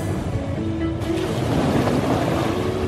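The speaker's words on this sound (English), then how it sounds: "There you go, the waves have started." A continuous rushing of churning water as a wave pool's waves start, with a low mechanical rumble, loud and close, building slightly as the waves get going.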